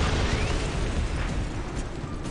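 Strafing run explosions in the Warhammer 40,000: Dawn of War – Winter Assault strategy game: a continuous dense roar of blasts and rumbling booms that stays loud and steady throughout, with no pause between them.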